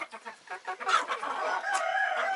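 Roosters on a farm crow and cluck close by, a burst of rapid clucking giving way to a sustained, strained crowing call, loud and without talk.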